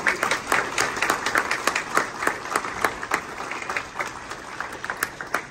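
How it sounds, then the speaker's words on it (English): An audience at a U.S. citizenship oath ceremony in Atlanta applauds a military veteran, with sharp individual claps standing out from a continuous ripple of crowd clapping that carries on throughout. "Let us give him a warm applause"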